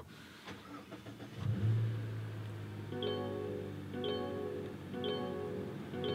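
A 2023–2024 Mazda CX-50 2.5 turbo AWD starts by push button: the engine cranks and catches, then settles into a steady close idle while an interior chime beeps about once a second.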